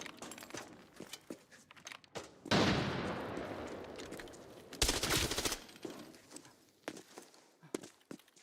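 Heavy gunfire from a large weapon in the video game Arena Breakout Infinite: a loud burst of shots followed by a second sharp volley, with scattered fainter shots and clicks around them.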